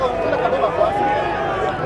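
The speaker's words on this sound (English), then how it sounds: "Crowd a bit subdued after that try." Subdued crowd murmur in a rugby stadium in Kampala at the Elgon Cup, Kenya against Uganda, a steady low babble of many voices held at an even level throughout.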